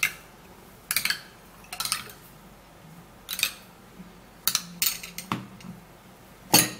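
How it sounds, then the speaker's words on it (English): A spoon stirs a homemade skincare mixture in a bowl, giving several short, sharp clinks and scrapes spaced irregularly over a quiet background, each one close and brief. "so you're going to give it a little stir also"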